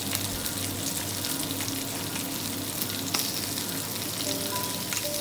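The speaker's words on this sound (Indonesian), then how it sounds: "Tumis dia sampai layu" Steady close sizzling of food being sautéed in a hot pan until wilted, a dense continuous crackle with no talk over it.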